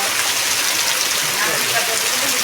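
Heavy unseasonal rain pours down steadily in a farming village, a dense, even hiss of water that stays loud and unbroken throughout.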